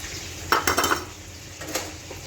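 Utensils clink and scrape against a bowl as a burger salad is tossed with olive oil and lemon, a few brief clattering strokes close by over a quiet room hum.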